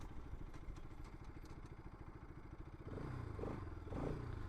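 A motorcycle running at speed on a road, its engine a steady close mid-pitched drone with a rough pulsing texture that grows louder and heavier toward the end.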